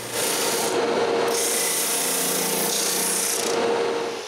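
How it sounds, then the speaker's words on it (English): A drum sander grinds the excess biscuit flush on a round wooden frame, giving a loud, steady abrasive rasp that carries on without a break, with only slight changes in pitch. "This means that I can remove the biscuit's excess. The ideal tool for this is the drum sander."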